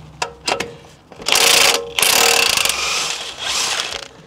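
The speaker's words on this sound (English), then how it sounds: "DeWalt impact driver, best thing I've ever bought." A DeWalt impact driver removes 18 mm bolts on a VW T5 van. A few brief taps give way to two loud, close rattling hammering runs of about a second each, then a shorter burst.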